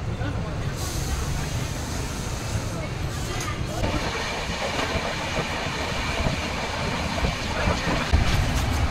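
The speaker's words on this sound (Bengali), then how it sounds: "ট্রেন ছাড়লো" A passenger train departs and runs along the track with a continuous, moderately loud rumble and clatter, and voices are faintly audible in the background.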